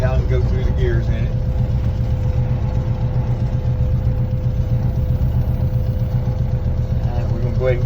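1966 Ford Fairlane fitted with a Cummins diesel engine, heard from inside as it drives on the road: a steady low engine rumble and drone with a faint tonal whine, loud and continuous.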